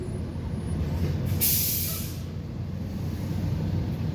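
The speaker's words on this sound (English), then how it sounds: "Just in time, here comes a garbage truck." A garbage truck pulling up, a low engine rumble with a sharp hiss of air brakes releasing midway, then settling back to idle, fairly close.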